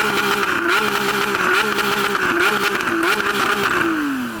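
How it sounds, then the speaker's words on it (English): Lamborghini SVJ V12 engine revving loudly and continuously, pitch rising and falling in several quick blips before a final climbing wail, close and alone with no talk. "I'm going to start off by revving up the glorious V12 of this Lamborghini"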